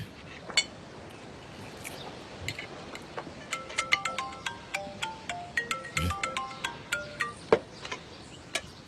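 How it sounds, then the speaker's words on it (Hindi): A repeating electronic phone ringtone chimes in short, evenly spaced beeps in a scene of the Turkish TV series Erkenci Kus, fairly close and moderately loud, with a few clinks and faint background noise. "जवाब क्यों नहीं दे रहे उस फोन को बेटा?"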